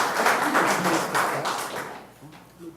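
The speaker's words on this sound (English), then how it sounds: "we would like to ask if we refrain from doing any clapping" Audience applause at a Batavia city council meeting, a burst of many hands clapping at once that fades out after a couple of seconds, with a few scattered claps and faint voices near the end.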